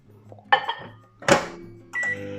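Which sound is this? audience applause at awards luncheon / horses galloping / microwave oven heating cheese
microwave oven heating cheese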